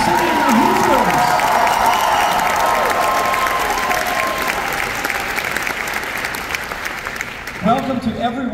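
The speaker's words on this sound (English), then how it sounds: "how about one more round of applause for the Indiana University City of Hoosiers?" Loud applause with some cheering from a concert audience after a university show choir's spring concert number, dense and continuous, gradually thinning toward the end before a voice begins speaking.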